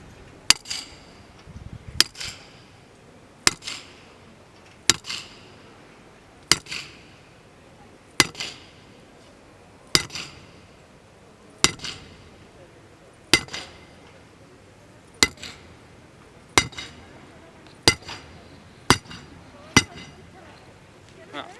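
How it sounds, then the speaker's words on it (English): A hammer strikes a metal core cutter about a dozen times at a steady, unhurried pace, driving it into soil, each blow a sharp ringing clank that quickly fades. "using the hammer, we have to penetrate into the ground"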